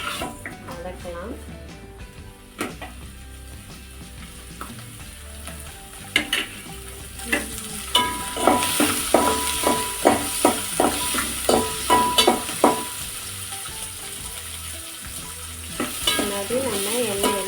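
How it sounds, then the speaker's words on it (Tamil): Garlic and small onions sautéing in oil for a Tamil yam gravy, a soft sizzle with a spoon repeatedly scraping and stirring the pan in a steady rhythm, someone talking over it. "நம்ம எண்ணெயில் வதக்கிக்கலாம்"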